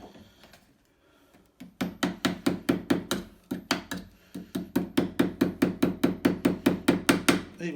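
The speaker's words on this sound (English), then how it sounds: "messing around with a silly little pin hammer" A small pin hammer drives nails while a broken stair spindle is being replaced: a quick run of about two dozen sharp, close taps in an even rhythm, with a brief pause midway and no talking.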